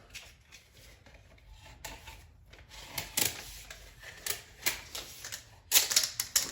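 Cutting a laminate flooring transition shim at an exterior door, a series of quiet scraping and snapping cuts that grow louder and sharper toward the end, with no voices.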